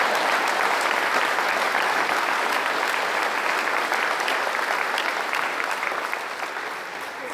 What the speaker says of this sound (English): Why don't you just do a round of applause so I get some cheers out?